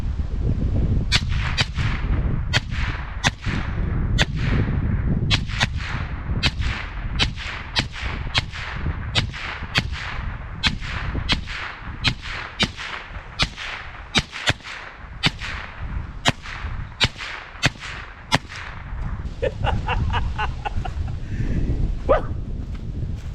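.410 shotgun firing pest rounds outdoors, a long run of sharp, loud, evenly spaced shots with a few faster clusters, with a dog barking in the background.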